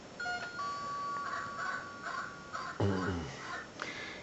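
A Lego City toy doorbell plays a short series of electronic ding-dong tones, with a voice chiming in partway through, over faint background noise.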